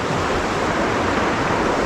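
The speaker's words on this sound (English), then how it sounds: "we've gotten a lot of rain in the last few days. And as you can see, this water is moving." Fast-flowing river water swollen after several days of rain rushes in a steady, loud, broadband wash, close and continuous, with no voices.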